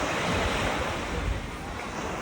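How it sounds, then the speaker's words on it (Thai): Sea waves wash steadily onto the beach at Koh Kham island, a constant broad surf roar mixed with gusty wind buffeting the microphone, fairly quiet and with no voices. "ท้องทะเลครับบริเวณหาดเกาะขาม"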